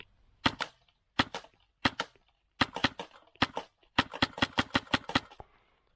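Airsoft replica firing shots while zeroing its sight on a 10-meter range: sharp, close cracks, first spaced singles and pairs, then a quick rhythmic string of about nine shots, with no talking.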